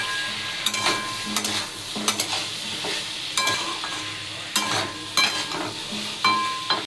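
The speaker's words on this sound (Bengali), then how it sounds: "ভালো করে মশলাটাকে কষানো হবে এর সঙ্গে।" Spice paste with cumin powder, salt and a little water sautés in a pan for a prawn and watermelon-rind curry, a steady close sizzle broken by repeated sharp spatula scrapes, no voices.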